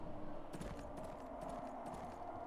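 Horse-drawn cart hooves in the Die Siedler: Aufstieg eines Königreichs strategy game, a steady quiet clip-clop of hoof steps over a soft ambient game background.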